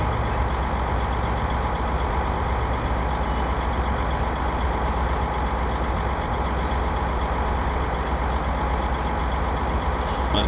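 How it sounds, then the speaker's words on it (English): A truck rolls along in Farming Simulator 15, its engine a steady, loud drone held at a capped low speed, with no pauses or breaks across the whole stretch and no voices. "The truck is nice, but it's limited to only 26 miles an hour"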